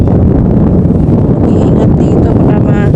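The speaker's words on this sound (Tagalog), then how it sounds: "Sobrang lakas ng hangin." Strong wind buffets the microphone on a mountain summit at Mount Banoy, Batangas, a loud, constant roaring rumble that fills the whole stretch without a break.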